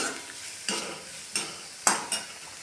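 Bottle gourd yogurt chutney mixed by hand with a spoon, giving four distinct, evenly spaced scraping strokes against the vessel over a quiet background.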